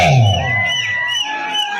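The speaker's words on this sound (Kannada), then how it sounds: "ಸುಧೀರ್ ಅವರಿಗೆ ಜೋರ ಚಪ್ಪಾಳೆ ಹಾಕ್ತಾರೆ" A crowd at a kabaddi semi-final roars and cheers for raider Sudhir, loud whooping and yelling voices swelling together in a short burst.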